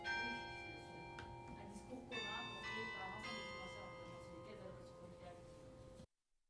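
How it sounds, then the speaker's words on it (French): Church bells ringing at noon, several ringing strokes with long sustained tones that overlap and fade, fairly faint and distant, cutting off abruptly near the end. "Comme nous l'ont très bien rappelé les cloches que nous venons d'entendre, il est midi"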